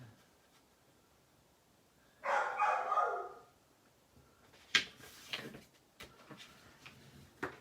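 A dog barks indoors nearby, one loud bark burst followed by several sharp, shorter barks spaced irregularly, set against faint rustling and tapping of paper crafting work.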